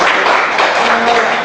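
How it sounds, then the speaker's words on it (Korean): A short burst of brisk audience applause fills a lecture room after a presentation, dense clapping at close range with no talking over it. "자, 박수 한번 주세요"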